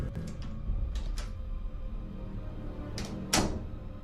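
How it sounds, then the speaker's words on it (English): A bathroom door opening inside an otherwise quiet building, a few soft knocks and handle clicks, then a sharper thunk near the end, close and fairly faint. "and the bathroom door opens"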